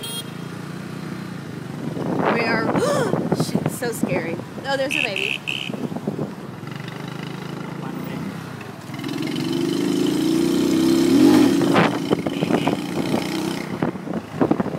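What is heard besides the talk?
motorbike riding in Saigon traffic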